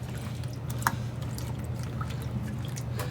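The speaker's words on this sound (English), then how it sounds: "Rinse some of that bleach off my hands." Water runs and splashes steadily over hands to rinse off bleach at a sink, a continuous low wash with a few brief drips and trickles on top, fairly close.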